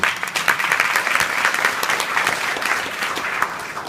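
Steady applause from a gathered crowd celebrating adult learners at a literacy event, with many hands clapping in a dense, even patter that stays fairly loud and slightly tapers toward the end.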